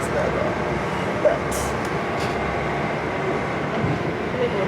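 Inside a train carriage riding toward London, a continuous low rumble and rushing hiss fill the space, with occasional faint clicks and a brief airy burst, while a person speaks quietly over the noise.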